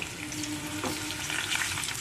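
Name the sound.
papaya frying in a pan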